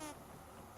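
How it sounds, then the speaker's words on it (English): Bees buzz in the Vintage Story video game, a soft, steady insect drone, faint and brief, with no talk. "I have a feeling the bees are going to be very buzzy today"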